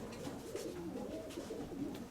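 A pair of pigeons kept in a cage during mating coo softly in low, rolling phrases that repeat throughout, fairly quiet and close, with no one talking.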